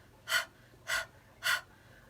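Three forceful breaths pushed out sharply during a breathing exercise, evenly spaced about half a second apart, close and clear against a quiet background.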